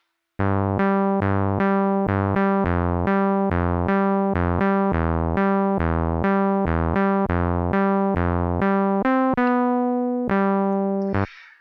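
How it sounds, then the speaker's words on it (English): A TB-303-style clone bass synth plays a bright, buzzy sawtooth wave as a rhythmic sequence of short staccato notes, ending on a longer sustained note that fades out. "Let's try sawtooth."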